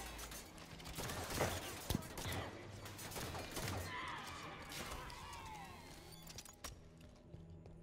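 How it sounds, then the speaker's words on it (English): Halo 5: Guardians gameplay with quiet bursts of assault rifle fire mixed with mechanical clatter, crashes and game effects, set under soft voices throughout. "fire your assault rifle and short-controlled burst to strip his shield"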